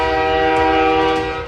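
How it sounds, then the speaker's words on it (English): A train rattles loud and close in an audio drama, a dense steady roar with sustained tonal ringing layered over the rumble, unbroken by voices. "I jolted upright to the loud rattle of a train."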